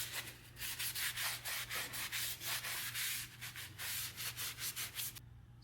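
Rhythmic scrubbing strokes rub across the drum brake pads of a 1974 Ford F100, a steady run of close, fairly loud back-and-forth friction against a low electrical hum, ending abruptly.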